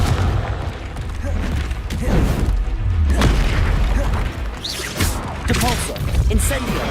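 Confringo fire spell blasts in the Hogwarts video game: repeated deep booming explosions in dense, loud, layered game effects with a voice mixed in.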